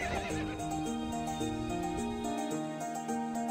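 A horse from the video game To the Moon whinnies briefly at the start, followed by soft hoof clip-clops over a steady melodic music bed.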